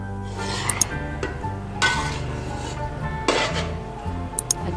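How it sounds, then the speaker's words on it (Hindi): A spoon clanks and scrapes against a pot while stirring carrot halwa with milk, irregular metallic knocks and clinks at close range over a low steady background, no talk. "चम्मच चला देंगे अच्छे से हम।"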